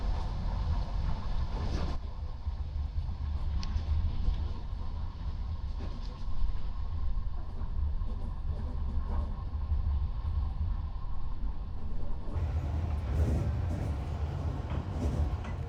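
A steady low rumble fills a Vietnamese train carriage on the move, with occasional clunks and knocks from the wheels and couplings under a continuous rolling drone, heard from inside.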